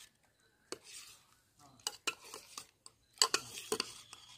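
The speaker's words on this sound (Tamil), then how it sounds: "தேன் ஊற്றியாச்சு, நல்லா கலக்கணும்." Honey being stirred into a panchamirtham fruit mix in a bowl: quiet, irregular bursts of a spoon scraping and clinking against the vessel, with short pauses between strokes.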